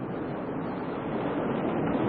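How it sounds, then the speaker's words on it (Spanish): A winter storm at sea around a small boat in 1951, with steady broadband wind and wave roar holding constant from start to finish, dense and unbroken, with no voices. "Una terrible tormenta aparece solo 3 días después."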